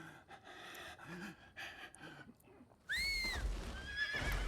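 A horse neighs loudly in Nioh 3 as it leaps over a barrier, the shrill whinny rising sharply after quieter snorts and breathy gasps, with a dull thud under it.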